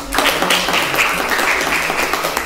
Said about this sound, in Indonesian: tepuk tangan untuk temanmu ya